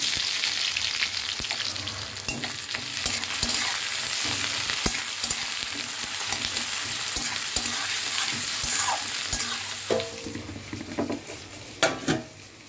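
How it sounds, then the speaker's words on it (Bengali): Chopped onions hit hot oil with tempering spices and fry in a pan, a loud steady sizzle with frequent stirring clicks and scrapes, the hiss easing near the end as sharper utensil knocks stand out. "দেবো কোচানো পেঁয়াজ,"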